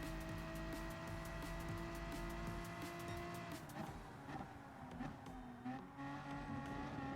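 A race car engine in the Gran Turismo Sport video game drones at a steady high pitch, then shifts and dips as the throttle is feathered, with tire squeal and other cars mixed in, fairly faint overall.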